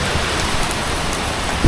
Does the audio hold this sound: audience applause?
no